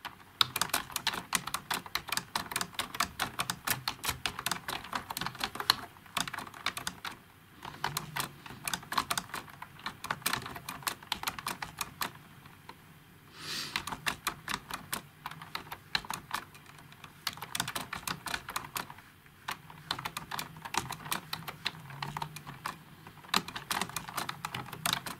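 Fast, continuous typing on a computer keyboard with a Slovak layout, close and crisp, the rapid key clicks broken by a few brief pauses, with no talking.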